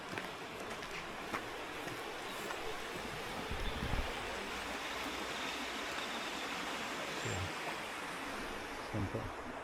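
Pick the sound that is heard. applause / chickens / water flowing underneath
water flowing underneath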